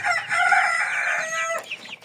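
A chicken calls out close by in a drawn-out, raspy cry, followed by a few shorter clucks at the end.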